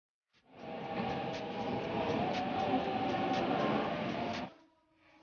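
A Bengawan economy train runs with a steady, loud rumble and rattle for about four seconds before the noise drops away, leaving quieter ambient sound.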